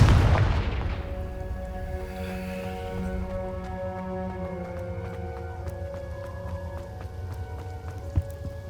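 A Confringo blasting spell goes off in Hogwarts Legacy: a heavy booming burst at the start, then a lingering tonal magical hum and ringing shimmer that fades through the rest, with a faint thud near the end.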